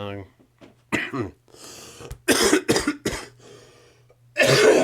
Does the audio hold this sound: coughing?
yes